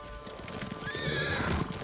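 A horse whinnies loudly over a steady bed of Ghost of Tsushima game ambience, with a soft clatter of hooves underneath; no talking.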